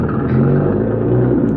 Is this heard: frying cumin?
no